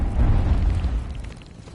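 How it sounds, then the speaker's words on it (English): Dr. Junkenstein's bombs go off in Overwatch as a deep, rumbling blast that rolls heavily and then fades over a couple of seconds. "Dr. Junkenstein lobbed his bombs at the castle. The explosions a percussive accompaniment to the sound of his laughter."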